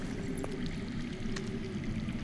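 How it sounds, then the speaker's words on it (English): Steady low rushing of water flowing underground in a Game of Thrones video game, a continuous muffled stream with faint brief ticks above it. "I hear water. From underground."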